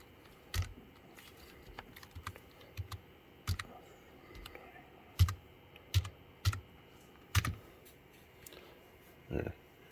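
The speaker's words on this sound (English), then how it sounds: "just type in a little feed move" Soft, scattered key taps on a computer keyboard during bench testing of a CNC controller, about a dozen light clicks spread irregularly, faint and close in a quiet room.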